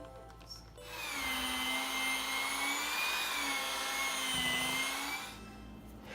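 Electric mixer blending sour cream into cream cheese and sugar, a steady close whirring hum that starts after a moment, runs for about four seconds and then stops.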